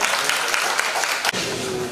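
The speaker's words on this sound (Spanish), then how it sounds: "Un aplauso." An audience at a Cuban cultural convention applauds steadily, a dense, even wash of clapping at moderate volume that holds for the whole moment.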